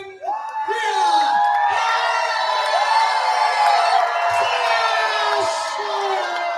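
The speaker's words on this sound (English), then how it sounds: "And you hear that Nanaimo crowd firmly behind our VIPW champion." A wrestling crowd in Nanaimo roars for the VIPW women's champion, with sustained cheering, whoops and high shouts building quickly and holding loud and full for several seconds.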